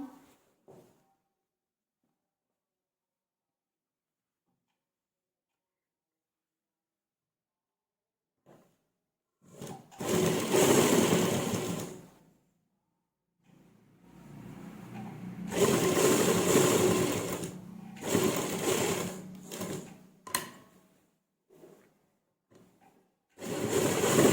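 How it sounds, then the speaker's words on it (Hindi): An electric sewing machine stitches the side seam of a ladies' pant in several bursts of rapid whirring, separated by quiet pauses, close up and fairly loud. "और उसी तरह से दूसरी साइड में भी सिलाई लगा लें।"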